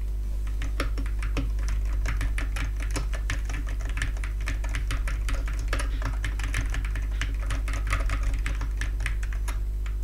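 Rapid, steady clacking of an AKKO MonsGeek Fun60 Pro 60% mechanical keyboard's fairly loud switches, close and fairly loud, with a low constant hum underneath.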